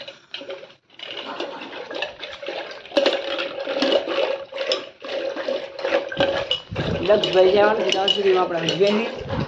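Steady stirring and clinking of lassi in a vessel, with liquid swishing and utensil scraping that grows busier toward the end; no talking.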